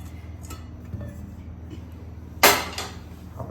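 A spoon clatters against a pan while Mohanthal mixture with freshly added sugar syrup is stirred, quiet scraping punctuated by one sharp metallic knock midway and a few lighter clinks after.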